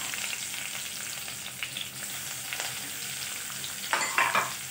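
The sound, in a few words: finely chopped onions frying in pan with cumin, curry leaves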